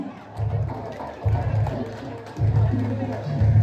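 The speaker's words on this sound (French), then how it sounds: "On applaudit le chef. On applaudit pour le chef." Audience at a Burkina Faso community gathering applauding for the chief, several bursts of clapping and crowd noise rising and falling, loudest toward the end, with voices mixed in.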